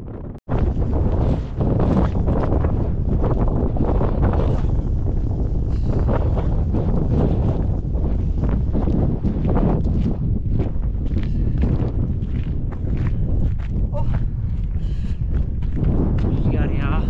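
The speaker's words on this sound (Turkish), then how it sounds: "Evet, karavana doğru gitmeye çalışıyoruz. Yoğun rüzgar altında." Strong gusts of wind at the Ani ruins near the Armenian border buffet the microphone with heavy, continuous rumbling roar, while people talk intermittently beneath the blustery noise.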